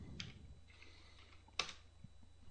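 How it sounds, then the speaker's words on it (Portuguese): A few faint, sparse keystrokes on a computer keyboard as a search is typed, quiet clicks scattered over a couple of seconds with one sharper tap. "Eu vou digitar aqui um tema é, Marvel."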